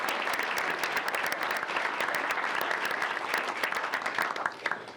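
A round of applause from a gathered audience at a meeting, continuous clapping at moderate distance that thins slightly toward the end.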